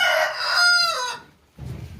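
A rooster crows loudly and nearby in one long call by a chicken room, then a short low cluck or rustle follows after a brief pause.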